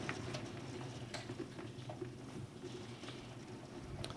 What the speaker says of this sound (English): as we sit here and we listen to the rain